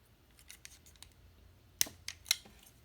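A plastic guard is popped off a cheap body trimmer, heard as several quiet clicks and plastic handling noises, followed by two sharper snaps near the end.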